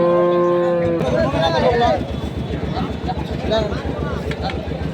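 A bull mooing at a rural cattle market, one long close, loud bellow at the start, followed by busy market chatter and a low engine-like hum.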